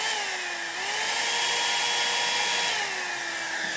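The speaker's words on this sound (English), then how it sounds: "It's just a Revlon hair dryer that I got off Amazon." A Revlon hair dryer blows steadily at close range, a constant rushing whine with a slight dip in pitch near the start, running alone without a break.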